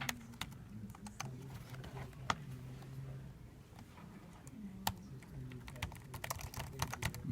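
Keys clack on a computer keyboard in uneven bursts of sharp taps, fairly quiet and close, while a low voice hums in the background.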